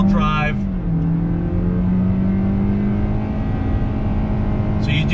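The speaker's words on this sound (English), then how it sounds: "So you do get that high RPM when you're floored" A 2020 Toyota Corolla Hatchback with a CVT and front-wheel drive accelerates at full throttle, its engine holding a loud, steady high-RPM drone that rises slightly. Brief voices are heard at the start and end.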